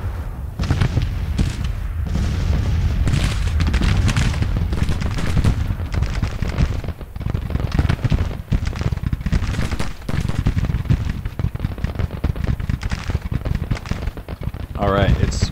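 Dense, continuous volleys of musket and cannon fire from a Civil War battle in the strategy game Grand Tactician: Civil War, with rapid overlapping shots and deep booms throughout and a brief voice near the end.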